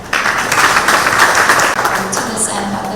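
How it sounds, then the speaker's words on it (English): Applause for the mayor rises from a crowd as a dense, fairly close burst of clapping that keeps going steadily for a few seconds. "I think we can have another round of applause for the mayor"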